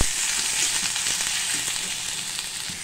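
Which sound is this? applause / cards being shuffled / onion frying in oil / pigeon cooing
onion frying in oil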